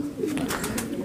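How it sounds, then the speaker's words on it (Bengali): A male Nildumma pigeon coos softly at close range, a brief low murmuring call with no voices over it. "এটা নীলদুম্বা নর কবুতর"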